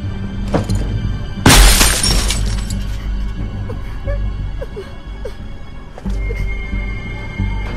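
A single sharp gunshot cracks loud and close in The Walking Dead Season 2 game, followed by lingering ambient rumble and scattered faint sounds.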